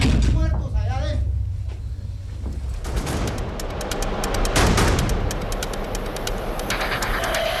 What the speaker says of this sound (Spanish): se escuchan disparos y una fuerte detonación al interior del penal